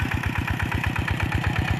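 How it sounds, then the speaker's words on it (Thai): A farm tractor running while plowing a clay field planted for corn, its engine chugging in a fast, steady low thump close by, loud and uninterrupted with no voices. "เอารถไถลงมาไถ"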